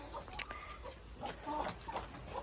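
Chickens clucking in a chicken pasture with nesting boxes, several soft, scattered clucks and short calls heard faintly nearby.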